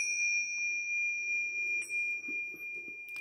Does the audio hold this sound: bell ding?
yes